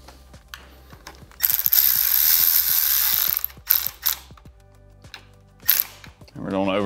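Ratcheting tool clicks in quick repeated bursts while T20 bolts are tightened on a plastic handlebar cover of an Indian Roadmaster or Chieftain motorcycle, close and fairly loud, with a brief hissing rush in the middle.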